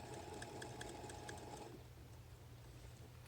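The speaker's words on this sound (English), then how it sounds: "So the machine kind of slows down when it's about to finish, so you just know that it's almost done." A Brother CS6000i sewing machine stitching a one-step automatic buttonhole hums with rapid needle clatter for about a second and a half, then stops, leaving a low steady background hum; close and fairly quiet.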